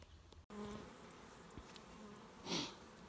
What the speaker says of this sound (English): All right, so this looks like a pretty decent swarm here.